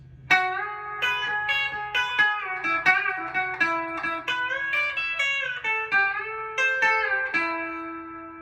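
A country guitar solo phrase, played as a run of quick, bright picked notes and bends, with sustained tones ringing alone and clearly up close for several seconds.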